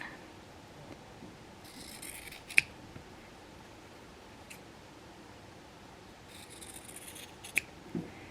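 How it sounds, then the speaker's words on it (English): Scissors trimming the corners off a fabric quilt block make a few soft, close snips with light rustling between them, spread sparsely over a quiet background. "Now it's time to trim off the corners 1/4 inch away from the stitch line."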